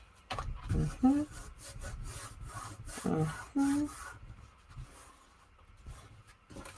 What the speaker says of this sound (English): It needed to be sanded down.